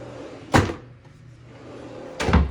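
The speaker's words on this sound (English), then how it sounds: "So these are the drawers for storage," Storage drawers built under a bed in an apartment pulled open and pushed shut, two short wooden thuds about a second and a half apart, near and fairly loud against a quiet room.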